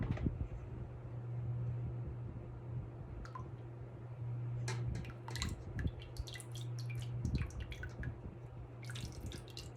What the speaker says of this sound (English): I'm going to strain the lye because it's been sitting.